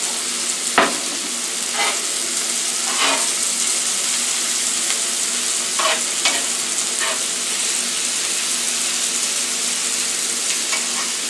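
Rib eye steak frying in oil in a hot pan, a continuous bright sizzle with occasional sharper crackles and spits, close and steady with no talking.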